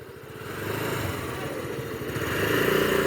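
A motorcycle on a riding practice ground revs and pulls away, its engine note rising steadily and growing louder over a few seconds, close by with no speech.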